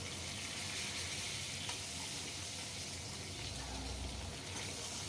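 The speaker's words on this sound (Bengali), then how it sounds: "সেই আলুগুলো আমি তেলের মধ্যে দিয়ে দেবো। দিয়ে এবার আলুগুলো বেশ একটু লাল করে ভেজে নেব।" Long-cut potato strips fry in hot oil in a pan, a constant, fairly quiet bubbling hiss that holds steady throughout without any voices.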